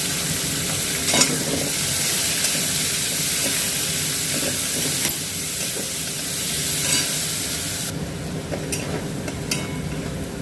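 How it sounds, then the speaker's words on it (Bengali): Beans, carrots and green chilli fry in a pan for fried rice, a steady close sizzle with scraping stirs and small clatters running throughout, no one speaking. "এখন আমি বিনস, গাজর আর একটু কাঁচা লঙ্কা দিয়ে দুটা ভাজবো।"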